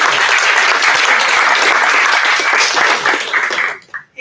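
Sustained audience applause at a startup demo night, loud and dense for about four seconds before tapering off abruptly into quiet.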